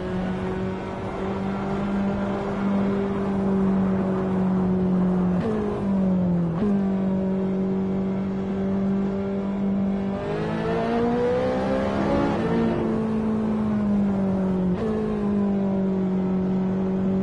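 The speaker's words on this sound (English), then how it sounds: "I guess I was carried on by that sound of the engine" An Assetto Corsa race car engine at Monza drones steadily at a high pitch, with gear shifts dipping and rising the tone several times, loud and continuous throughout.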